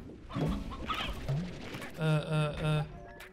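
Chickens in the video game Slime Rancher clucking and cooing in short bursts, a few close calls spaced across the moment, with some voice-like game sounds mixed in.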